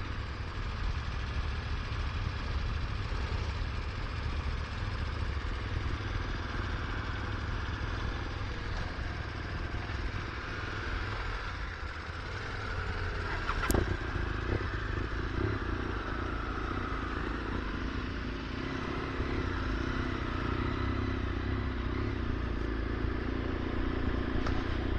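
A motorcycle riding on fast roads through the Yorkshire Dales on a sunny day, heard as a steady, close engine drone with wind and road rumble throughout, plus a brief sharp click midway.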